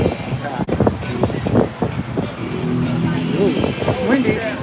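Wind gusts roar across the microphone at the Volcano Bay water park at Universal Orlando, a loud, constant buffeting under a voice talking nearby.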